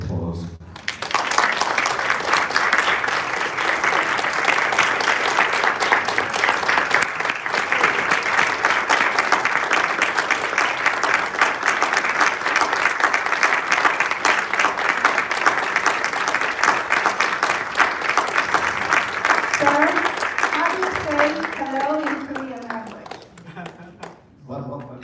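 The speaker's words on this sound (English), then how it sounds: "Please give him a heartfelt round of applause." A crowd applauds a 96-year-old Korean War veteran at a 75th-anniversary Korean War commemoration in Washington DC. The clapping is loud and dense for about twenty seconds, then fades as a voice begins speaking over its tail.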